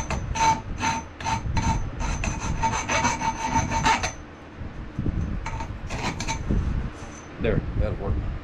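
A pipe for a boat umbrella mount is cut by hand with a saw, close, rhythmic rasping strokes in quick bursts, pausing midway before a few more strokes resume.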